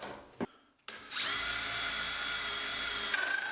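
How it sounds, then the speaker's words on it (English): A hole saw stitch-drills through a double timber stud to join cuts for pipework, a steady loud whining drill run after a brief knock and a pause, with the pitch shifting near the end. "I need to connect the two sides with some stitch drilling before I can remove the centre plug"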